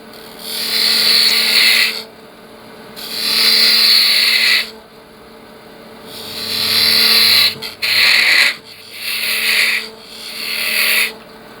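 A smaller spindle gouge shaves a pepper mill on a spinning wood lathe, giving loud, hissing cuts in about six separate passes of a second or two each, with quiet gaps and a steady motor hum between them.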